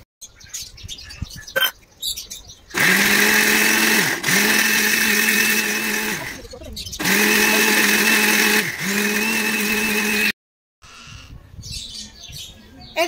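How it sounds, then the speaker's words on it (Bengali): Mixer grinder pureeing cut mango pieces into a smooth paste, whining loud and steady in two long bursts of several seconds each with a short pause between, close by, after quiet kitchen clatter. "এই আম কাটা আমগুলোকে মিক্সিতে খুব ভালো করে পেস্ট করে নেব"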